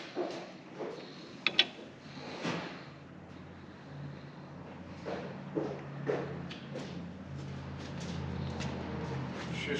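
A wrench works on a 1966 Ford Mustang 8-inch rear end during a carrier swap, giving irregular metallic clicks and ratcheting over a steady low background hum.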